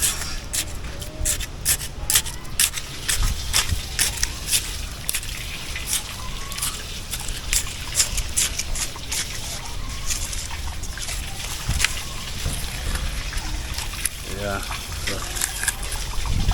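Irrigation water trickles and gushes steadily down a channel onto a backyard farm in Kingstown, a continuous close splashing flow with someone speaking briefly over it.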